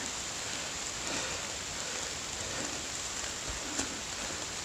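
Steady rain falls in a forest along the Old Loggers Path during a hike, a continuous dense patter of drops on leaves and the ground all around, even in loudness, with no voices.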